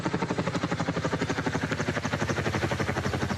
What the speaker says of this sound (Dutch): die blushelikopter die we de hele tijd horen